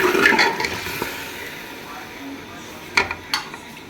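Water poured into a pot of mutton paya cooking in desi ghee, a brief rushing splash at the start that fades, followed by a couple of metallic pot clinks.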